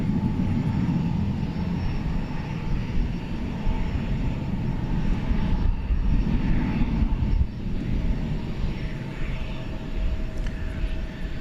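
An American Airlines Boeing 737-800 takes off from runway 18 left at DFW Airport at night, a steady, loud broadband engine roar holding throughout with a faint tonal whine above it.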